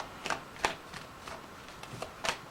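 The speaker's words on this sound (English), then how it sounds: "I'm shuffling backwards again." Tarot cards riffled and shuffled in a handful of quick, soft bursts spaced through a quiet room, close by with no voices.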